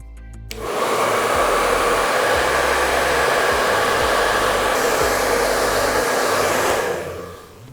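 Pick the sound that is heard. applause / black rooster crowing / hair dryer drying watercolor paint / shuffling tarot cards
hair dryer drying watercolor paint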